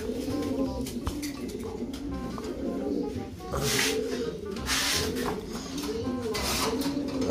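Young squabs coo in a pigeon loft, a soft, repeated rolling coo cycling steadily at close range, with faint rustling and occasional sharp clicks.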